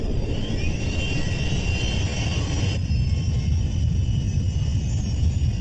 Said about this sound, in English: The noise that a Rolls-Royce engine makes when it starts up is low rumbling noise